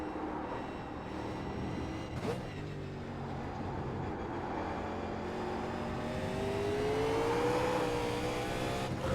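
Race car engine held at high revs on a hot qualifying lap at Mosport in the iRacing sim, a steady loud drone with rising pitch through the gears, alone with no talk.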